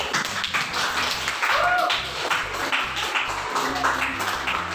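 A class of students claps together after a group presentation, a dense patter of many hands mixed with background chatter and a faint tone.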